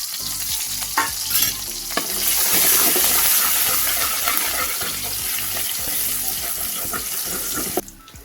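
Finely chopped green chilli and ginger frying in two spoons of oil for a street-style gobi manchurian gravy, a loud close sizzle that swells after a few stirring knocks, then holds steady before cutting off.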